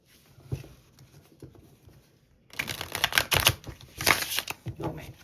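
Riffle shuffling a tarot deck: a quiet stretch with faint handling, then loud, close bursts of rapid flapping cardstock as the two halves interleave, in two main waves.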